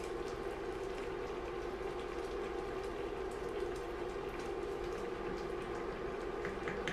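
Pasta boiling in a pot on the stove gives a steady, continuous bubbling hiss that holds at an even level throughout, with no one talking.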